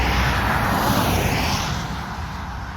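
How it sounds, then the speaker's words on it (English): A tractor engine drones loudly and continuously as it climbs a hill on a long run from John O' Groats to Land's End, heard close with a dense, rumbling roar that eases slightly toward the end. "Tractor's running really well"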